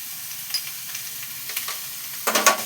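Bottle gourd with turmeric and salt frying in a pan, giving a light hiss with small scrapes, then a louder burst of stirring and sizzling near the end; brief and close, with no voices.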